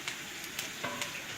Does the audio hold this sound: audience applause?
no